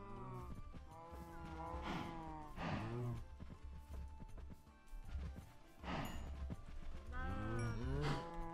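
Cows in the Minecraft 1.19.2 video game moo repeatedly, several long low calls at irregular intervals over soft background game sounds, no talking.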